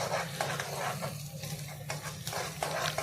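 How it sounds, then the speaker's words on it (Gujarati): Onions frying in a pan while being stirred until brown, a soft sizzle under intermittent scraping strokes of a spoon, fairly quiet and close. "કાંદા જાગી બ્રાઉન કલરના થઈ જાય જેમ કે ભૂરા, ત્યાં સુધી એને મિક્સ કરીશું બરાબર"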